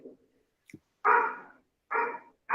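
A dog barks outdoors in two loud, sustained bursts spaced about a second apart, preceded by a faint short yip, with no talk over it.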